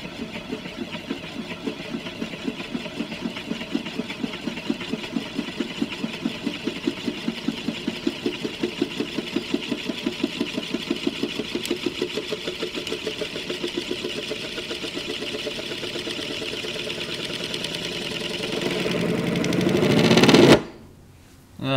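A homemade Euler's disk spinning on a wooden board makes a steady rapid rattling whir that gradually quickens and rises into a buzzing roar before stopping abruptly, close and fairly faint.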